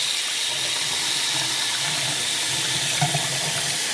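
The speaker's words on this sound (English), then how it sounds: "Okay, so I'm going to rinse all of that off." Steady running tap water streams into a sink as makeup brushes are rinsed, a continuous close hiss with a small splash near the end and no talking.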